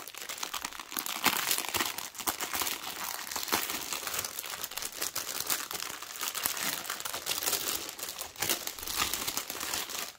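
A package is torn open and its wrapping crinkled during an unboxing of diamond painting kits, a continuous close rustling and crackling of plastic or paper that fills the whole stretch with no pauses.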